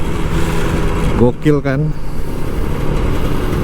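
An old Kawasaki Ninja RR 150 motorcycle engine hums steadily in the background while someone talks loudly over it, the engine note staying fairly even throughout.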